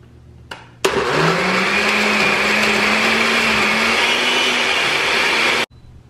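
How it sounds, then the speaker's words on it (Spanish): A blender on high speed blending zucchini, cilantro and other ingredients into a thick fake guacamole, a loud, steady whirring motor that starts abruptly after a short click, runs for about five seconds, then cuts off sharply. "Y ahora sí, a licuar."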